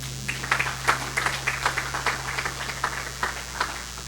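Scattered applause from a church congregation after a prayer, a fairly faint spread of claps over a steady low hum, with no speaking.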